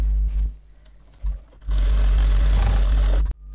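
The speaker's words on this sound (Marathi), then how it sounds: "इथे अशी डबल शिलाई करायची म्हणजे ती बॅग छान मजबूत राहते" A sewing machine double-stitching a seam on a cloth shopping bag: brief motor bursts and handling thumps, then a loud, close, steady run of stitching for over a second before it cuts off sharply.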